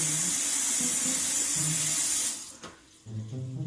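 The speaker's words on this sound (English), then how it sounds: "you rinse the chicken, you rinse your vegetables" Tap water runs steadily from a kitchen faucet while raw chicken is rinsed in the sink, a close hissing stream that briefly stops and then resumes.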